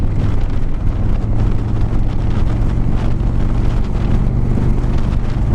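Harley-Davidson Street Glide with the eight-valve Milwaukee-Eight 107 engine, ridden on the road, gives a steady, loud, low engine rumble that holds without a break, mixed with heavy wind rush.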